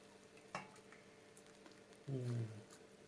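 Quiet crackling and sizzling of kadayıf rolled in yufka pastry frying in a pan, with a few soft clinks and a short low hum near the end.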